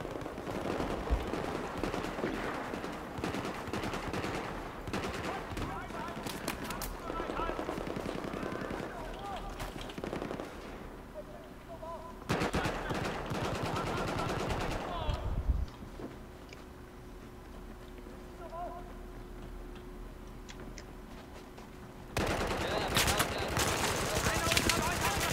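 Suppressed AK rifle fire in the game Battlefield 4, quick muffled bursts of shots in irregular clusters under ongoing game noise, with a person talking.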